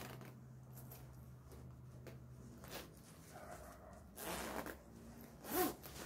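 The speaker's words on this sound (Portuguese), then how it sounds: "O zíper dela." Zipper on a nylon jacket pulled open and closed, a couple of quick faint rasping zips in a quiet room, the last one sharper and louder.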